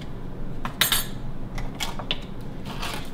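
Metal utensils clink and scrape against a bowl while parfait ingredients are mixed, giving a few bright, close taps over a faint background hum, with no talking.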